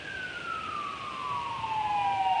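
Fire engine siren passing near a green space by the old Exe Bridges, a steady wailing tone sliding gradually downward in pitch and growing slightly louder, with no talk over it.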